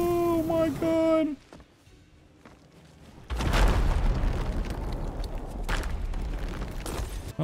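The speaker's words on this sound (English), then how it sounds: "I have to see this explosion" A big explosion in a video game after a defensive fort stack, a sudden heavy boom followed by a long roaring, crackling rumble with further bursts; a brief tonal game sound plays first, then a near-silent pause.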